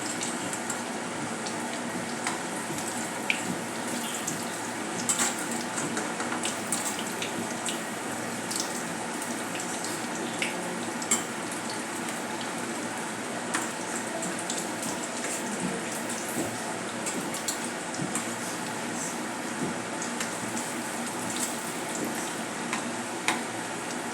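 Methi palak vadas, a fenugreek and spinach fritter, frying in hot oil, giving a steady, dense crackling sizzle with scattered pops that runs evenly and close-up, with no one talking.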